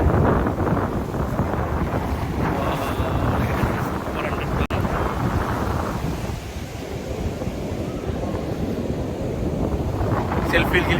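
Sea waves wash steadily onto a beach on the Srikakulam district coast, a continuous broad roar with wind buffeting the microphone throughout and a faint murmur of people in the background.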